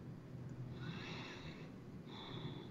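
Slow, controlled breaths during a paced breathing exercise, two soft airy inhales or exhales heard close against a low background hum, with no talking.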